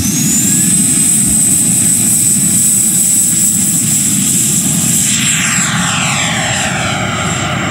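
Electric ducted fan RC jet aircraft scream overhead with a loud, sustained high-pitched whine and roar, the tone sweeping as a jet passes by and recedes.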